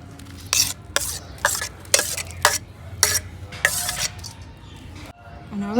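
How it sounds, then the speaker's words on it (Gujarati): Tomato dropped into a hot pan in a village kitchen sizzles steadily while a utensil scrapes and stirs in repeated sharp strokes, close and fairly loud, with a low background hum. "અને હવે નાખી દઈએ આપણે ટમેટું."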